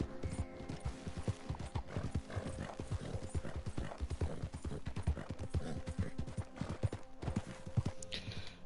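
Horse hooves clip-clop in a steady, continuous rhythm throughout, fairly close and prominent, from the Western video game Red Dead Online; a brief whinny may slip in near the end.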